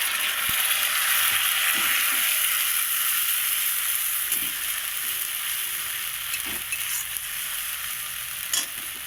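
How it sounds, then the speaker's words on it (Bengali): Onions frying in hot oil in a pan, a continuous bright sizzle with occasional soft stirring knocks, close and fairly loud, no one speaking. "খুব সুন্দর করে পেঁয়াজটাকে আমি লাল লাল করে ভেজে নেব"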